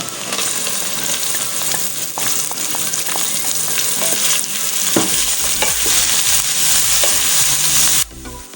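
Mutton keema and onions fry loudly in a pan, a continuous close sizzle broken by scattered clicks and scrapes of stirring, softening abruptly just before the end; no voices.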